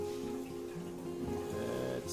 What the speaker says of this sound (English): Hopefully that does not shoot water out this time.